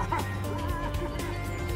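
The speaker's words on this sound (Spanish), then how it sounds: "¿Qué pasa con la gallina?" Chicken clucking in the Spyro 3: Year of the Dragon video game, a short burst of clucks over steady game music and background sound.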